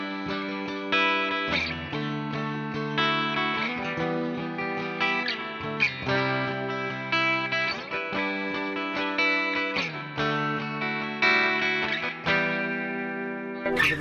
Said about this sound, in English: We'll go the bridge and just play the same thing.